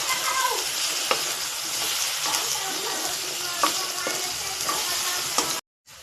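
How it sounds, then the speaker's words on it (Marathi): Masala paste for spiced eggplant sautéing in a pan over medium heat, a steady loud sizzle with a few sharp spoon scrapes from stirring, cutting off abruptly near the end. "वाटण चांगलं परतून घ्यायचंय."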